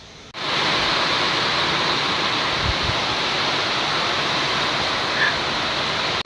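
Steady, loud rush of rain falling, a dense broadband hiss that switches on abruptly and holds evenly throughout with no voices.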